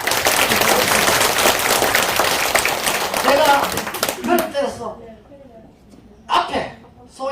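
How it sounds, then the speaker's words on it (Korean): A crowd claps loudly and densely for about four seconds, then the applause thins out and fades, with a voice speaking briefly afterward. "여러분 그분을 추모하는 입장에서 박수 한번 치세요"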